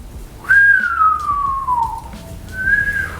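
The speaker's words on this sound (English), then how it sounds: "Ooh, I kind of whistled" A person whistles two notes, first a long falling glide and then a short higher tone, clear and close over a low indoor background hum.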